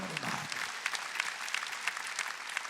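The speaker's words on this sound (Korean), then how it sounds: "박수." A church congregation at a Korean Sunday worship service applauds: steady, dense clapping from many hands, with sharper bursts recurring throughout.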